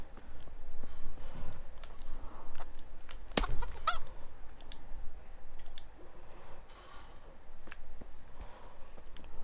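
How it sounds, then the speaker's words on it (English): A chicken clucks in Kingdom Come: Deliverance, with scattered short clucks and clicks over a quiet outdoor background and one sharp loud burst partway through. "Look, chicken."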